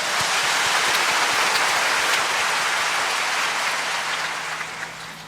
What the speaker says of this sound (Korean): 아멘 하시면 한 박수를 쳐주시기 바랍니다.